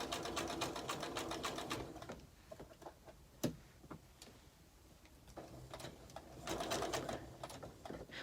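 A home sewing machine stitches a table runner, running over pins, in quick rhythmic bursts near the start and end, with a quieter stretch of scattered clicks and taps between.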